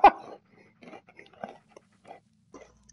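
A dog in the Blair Witch video game gives a sharp bark, followed by a few faint, scattered yips and soft sounds against near silence.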